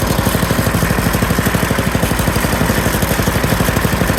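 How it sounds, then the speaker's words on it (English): A cold Craftsman 10-29 snow blower engine idles at low throttle with a rapid, even putter of firing pulses. The sound is loud, close and steady, with no voices. "Just a little, gets the oil to the top of the engine, then we rev it up."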